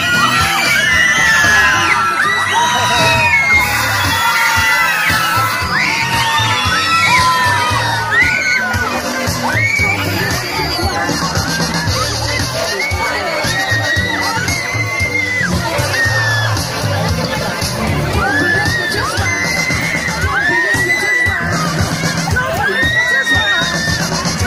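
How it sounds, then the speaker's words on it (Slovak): A large crowd of children shouts, yells and whoops together at an event in Gelnica, a loud, continuous and dense roar of high voices that holds steady throughout. "Poriadne kričíme, vyskáme!"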